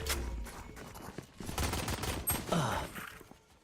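Rapid bursts of video game gunfire crackle and pop through a tactical shooter round, loud and close, with dense volleys and scattered single shots throughout.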